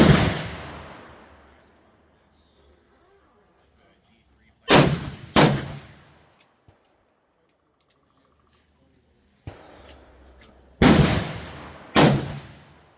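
Gunshots from a 30-30 rifle during load testing with Barnes TTSX and cast bullets: sharp, loud reports, some in quick pairs, each trailing off in a long outdoor decay, with quiet gaps between.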